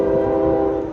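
Westbound double-stack freight train passing close by, with a steady loud horn-like tone and rumble over about a second.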